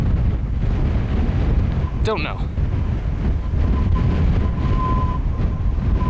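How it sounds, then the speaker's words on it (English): Strong wind gusting across a high mountain pass in the Sierra Nevada, a steady loud roar buffeting the microphone throughout, with a brief voice heard partway through. "Dang, it's windy up here."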